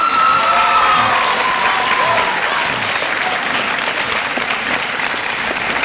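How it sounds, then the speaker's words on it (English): A graduation audience applauds staff members at Claremont Academy with a dense, loud, sustained round of clapping from a large crowd, fading slightly toward the end. "Let's give our staff a nice round of applause."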